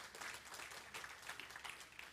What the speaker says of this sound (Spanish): Y si va a dar un aplauso, déselo bueno, fuerte al Señor.